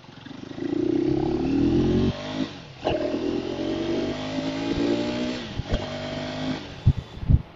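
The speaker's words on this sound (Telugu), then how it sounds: "సో సో గాస్ ఇప్పుడైతే మనం అడ్వెంచర్ 390 ఎక్స్ మనం డ్రైవ్ అయితే చేస్తున్నాం." A 2025 KTM Adventure 390X motorcycle being ridden, its engine revving up in rising sweeps, dropping between gears and climbing again, heard close and fairly loud with a few clunks near the end.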